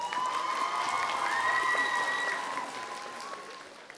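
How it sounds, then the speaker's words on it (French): An audience claps at a cosplay contest at the Chibi Rouen Hanami 2024 convention, a dense burst of applause with a few cheers and whistles that holds strong, then gradually thins and fades over a few seconds. "Et là, il faut applaudir super fort"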